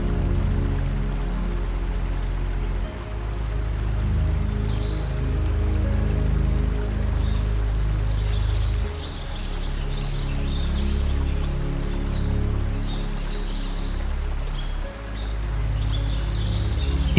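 Angel Falls plunging in a single unbroken stream from a tabletop mountain into the jungle below, a steady, dense rushing roar of falling water that holds evenly throughout with a low rumble underneath.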